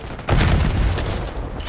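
A frag grenade in Call of Duty Black Ops 6 goes off as one loud, close, booming blast that rolls out and decays over a second or so, with no talk over it.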